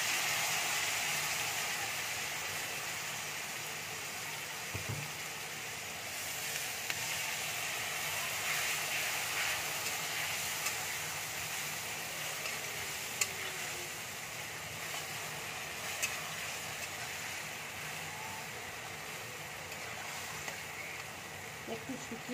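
Mustard and poppy seed paste frying in a pan of oil while cooking taro leaves: a steady, continuous hiss of sizzling throughout, fairly close, with occasional faint clicks and a voice speaking over it.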